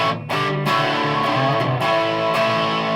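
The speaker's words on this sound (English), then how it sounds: "That's valve distortion" Heavily distorted electric guitar through a valve distortion pedal, playing crunchy, gainy chords and notes, loud and continuous with a thick saturated tone.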